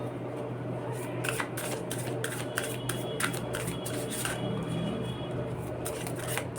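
Tarot cards are shuffled without pause, making a continuous close riffling patter with quick snapping flicks, under a faint low hum.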